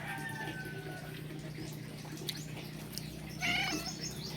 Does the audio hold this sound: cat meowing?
yes